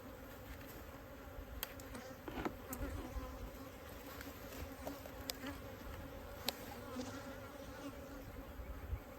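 Honeybees swarm around an open hive box in Texas Hill Country, their continuous buzzing hum close and steady, with a few individual bees zipping past near the ear.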